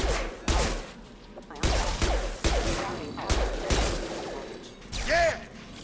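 Gunfire in Mass Effect 2 Legendary Edition comes as a series of sharp, loud shots in irregular bursts, each with a heavy low thump, followed near the end by a warbling energy sound.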